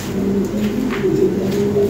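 Lahori pigeons cooing at a loft, a steady low throaty coo running continuously and close, with no talk over it.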